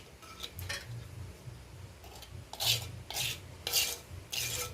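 A spoon scraping and spreading curd around the inside of a clay pot, heard as soft rasping strokes in uneven bursts, several brisker scrapes clustered toward the end, close and fairly quiet.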